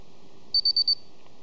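A quick series of eight high, thin electronic beeps from an SP 4000 keypad sounds in rapid succession over a quiet background hum.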